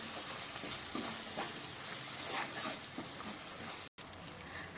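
Fish curry masala with chili powder and pepper cooks in oil for a South Indian chepala pulusu, a continuous soft sizzle and bubbling close by, with light stirring and no voices.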